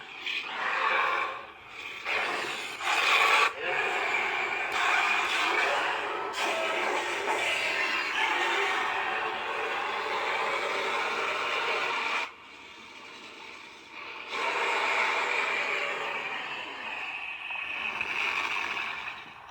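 A dense, buzzing electronic hum from a neopixel lightsaber's fire blade sound font, with crackling texture, plays continuously, dropping briefly and swelling again, like an unstable energy blade humming and flickering.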